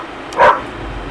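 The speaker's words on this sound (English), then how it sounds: "the dogs are barking at me" Dogs barking outdoors at an off-grid solar-powered house under construction, a single short loud bark standing out from quiet background.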